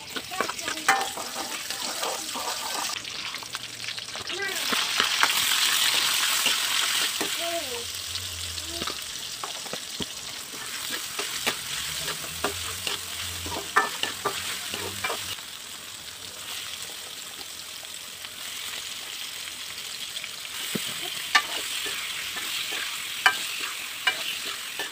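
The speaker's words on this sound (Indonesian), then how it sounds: "saya mau ngaduk nasinya dulu" Nearly cooked rice being stirred in a pot, repeated scraping and clacking strokes over a soft bubbling background, carrying on for the whole stretch.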